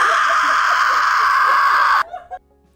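Voice imitating participants at a meditation retreat screaming at the top of their lungs, one long loud sustained shriek lasting about two seconds that cuts off abruptly into brief breathy sounds.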